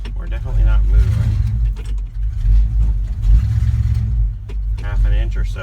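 An International Harvester engine revs hard and drones loudly while the vehicle drags along on locked wheels, a rough, rising and falling roar that goes on throughout.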